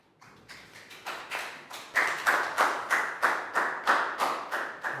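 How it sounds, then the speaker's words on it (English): A small group of primary school pupils in an English lesson claps together in a short round of applause, starting sparse and building into a steady, even rhythm of about two claps per second, fairly close and with no talking. "Round of applause for Nadia."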